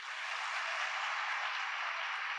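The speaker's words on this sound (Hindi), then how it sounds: "तो एक बार हमारी कंपनी के फाउंडर के लिए जोरदार तालियां होनी चाहिए" A crowd applauds the company's founder at a gathering, a dense, even wash of clapping that holds steady and loud for a couple of seconds with no voices over it.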